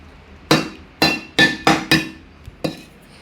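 A drinking glass held in the hand is tapped about six times at uneven intervals, each a bright ringing clink with a short decay, close and clear without speech.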